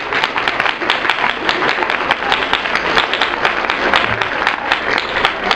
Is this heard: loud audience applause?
yes